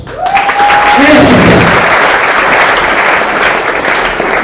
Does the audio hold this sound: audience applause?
yes